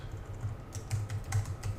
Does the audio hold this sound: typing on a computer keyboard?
yes